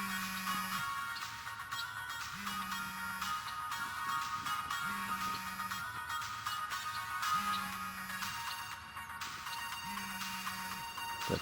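A mobile phone ringtone repeats a melodic pattern in regular bursts about every two and a half seconds, heard steadily at moderate level over background music.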